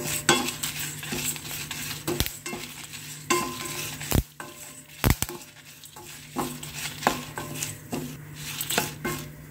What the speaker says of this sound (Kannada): ಈ ಟೈಮಲ್ಲಿ ನಾನು 10-12 ಕರಿಬೇವಿನ ಎಲೆಗಳನ್ನು ಹಾಕಿಬಿಟ್ಟು ಚೆನ್ನಾಗಿ ಹುರಿತಾ ಇದ್ದೀನಿ.